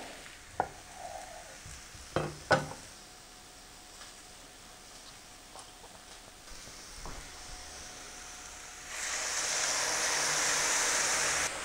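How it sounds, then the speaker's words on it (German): A steady hiss of goose leg searing in a hot pan rises suddenly and holds, after a few scattered clinks and scrapes of stirring. "Und auch das lassen wir jetzt nochmal schön anbraten"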